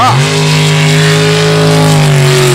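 Drag race cars launch off the line in a professional race, engines roaring loud and sustained at high revs, the pitch holding steady and then dipping slightly at the end.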